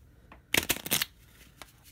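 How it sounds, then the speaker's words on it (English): A quick riffle shuffle of playing cards, a brief rapid flutter of cards snapping together, close and clear against a quiet room. "we're going to riffle shuffle these one more time to make sure that they get nice and shuffled."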